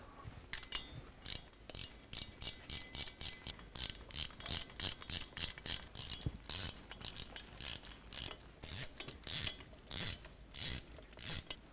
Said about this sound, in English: So I'll go ahead and torque them out this time.